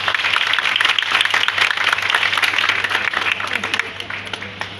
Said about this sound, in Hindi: एक बार जोरदार मैम के लिए तालियां बजाएं